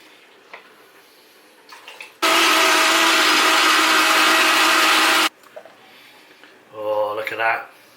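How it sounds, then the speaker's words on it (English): A kitchen blender roars loudly for about three seconds while mixing a Butterfinger candy bar milkshake, starting and stopping abruptly, with quiet handling sounds around it and a brief voice afterward. "So let's get this in the blender."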